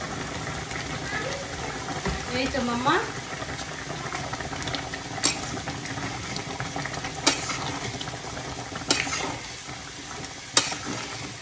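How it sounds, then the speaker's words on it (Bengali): Cauliflower, carrot, potato and beans sizzle steadily in a pan, with occasional sharp clinks of a utensil stirring and a person speaking over the frying. "এখানে ফুলকপি, গাজর, আলু, বরবটি একসঙ্গে ভাজা করছি"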